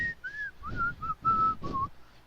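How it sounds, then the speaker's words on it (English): A person whistles the Robin Hood tune alone, a clear melodic line of several short sustained notes with brief gaps, close and fairly loud. "He was whistling."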